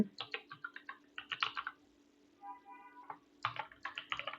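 Someone types on a computer keyboard while editing a MySQL config file, producing quick bursts of close key clicks separated by a short pause with a faint tonal hum.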